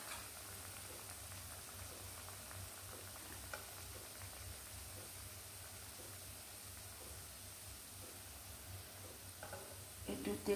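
Letter-shaped biscuit dough frying in hot oil gives a faint, steady crackling sizzle with soft bubbling pops throughout, growing briefly busier near the end.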